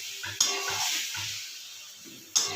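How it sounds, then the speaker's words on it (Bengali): Tomatoes and spices fry in a pan with a soft steady sizzle, while a spoon scrapes and stirs a few times and two sharp clinks ring out against the pan. "মশলাটা টমেটোটা একটু কষিয়ে নেবো।"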